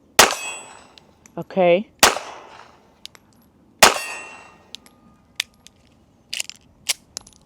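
An everyday carry handgun fires slow, spaced shots at a target, three sharp loud cracks with ringing metallic impacts and smaller clicks between them; someone briefly speaks.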